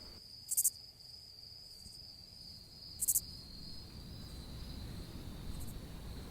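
A suzumushi bell cricket sings a steady, high, ringing trill, with a few sharper bright chirps standing out over faint low background hiss.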